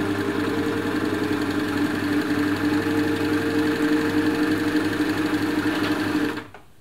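A compact Elna Lotus SP sewing machine stitches fabric with a fast, even mechanical whir and rapid needle clatter, running steadily up close before cutting off abruptly at the end.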